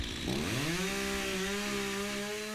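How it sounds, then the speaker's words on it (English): A chainsaw cuts through storm-damaged wood, its engine revving up sharply in pitch and then holding a steady, loud whine as the blade bites in. "One chainsaw at a time."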